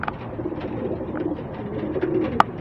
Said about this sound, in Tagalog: O dyan kalapatid yan